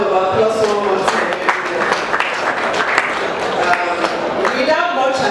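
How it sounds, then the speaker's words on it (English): Applause from the audience at a Nigerian printing industry expo event, broad steady clapping across the whole stretch, with voices mixed in throughout. "Let's give her a round of applause one more time."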